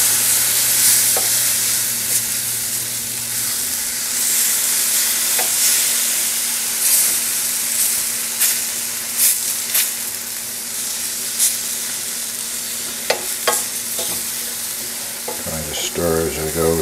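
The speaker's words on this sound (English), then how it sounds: "Trying to stir as I go to prevent it from getting too lumpy" Onions frying in a pan as milk is stirred in to make a thickening sauce, a steady close sizzle and hiss with scraping stir strokes throughout, ending in a few louder clatters.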